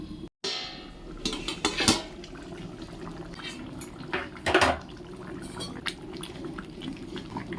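Metal pots and pans clatter and clink on a cooking stove as a pot is set over a pan as a lid, with a soft sizzle or simmer under several sharp knocks and scrapes.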